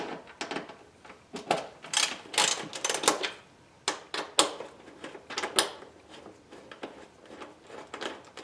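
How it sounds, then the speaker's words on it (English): Two Allen head screws being turned out of a cover on an Indian motorcycle power windshield, a run of close clicking and ratcheting taps with short pauses between turns. "we do that by first removing these two Allen head screws"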